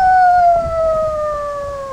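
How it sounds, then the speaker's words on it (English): Coyotes during mating, a sustained, smooth high-pitched howl-like wail that slowly slides downward in pitch, loud and continuous with faint background rustle beneath it. "That noise is the sound of the coyotes mating."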